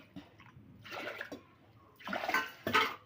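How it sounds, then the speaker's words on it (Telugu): Water poured into a pressure cooker holding dal, in two short splashing bursts with a quieter gap between them, close by and with no talking. "వాటర్ కొంచెం వేసుకుందాం ఇందులో"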